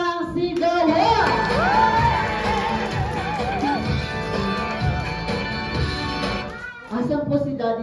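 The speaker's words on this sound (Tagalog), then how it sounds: "let's give them a big round of applause" A crowd of children and adults at a child's first birthday party cheers, whoops and shouts loudly for several seconds, with clapping mixed in, before a brief lull and more cheering at the end.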